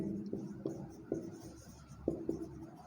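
Marker or chalk strokes on a board during a physics lecture on electrostatics, heard as a few faint, irregular taps and scratches over a quiet room hum with no speech.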